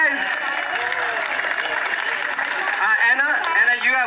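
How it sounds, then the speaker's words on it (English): Applause from a lively audience, with brisk clapping under a wash of excited cheering and voices, loud and close, building slightly toward the end. "Round of applause for these guys."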